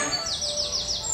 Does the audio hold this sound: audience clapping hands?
no